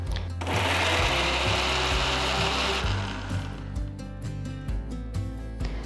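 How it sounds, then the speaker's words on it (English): A kitchen mixer grinder whirs loudly, grinding sauteed onions into a fine paste, then winds down into a series of short pulsed bursts with rattling of the jar. "transfer the sauteed onions to the mixer jar. Grind it to a nice fine paste."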